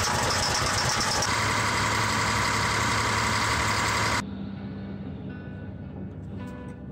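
Caterpillar D6R bulldozer engine, a loud steady mechanical drone with a high whine that drops abruptly to a lower, quieter idle with light knocking.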